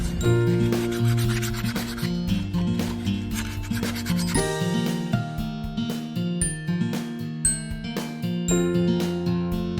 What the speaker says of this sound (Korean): 자, 그러면 사포질을 작업을 한번 해보겠습니다. 고운 사포입니다.